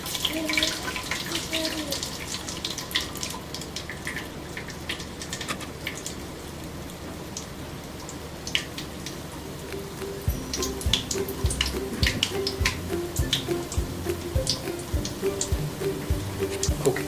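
Spicy mixture dough pressed through a holed ladle into hot oil for deep frying, giving a steady crackling sizzle with scattered sharp pops and a low background hum, alone without talk.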